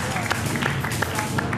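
Audience applause breaks out at a poker final table event, a dense wash of clapping hands mixed with crowd murmur, steady and fairly loud across the moment.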